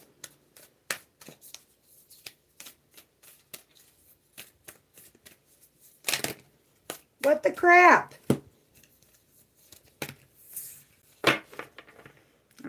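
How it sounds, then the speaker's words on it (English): Cards are shuffled with quick riffling and tapping bursts, close by, and a person briefly exclaims partway through. "Let me shuffle again."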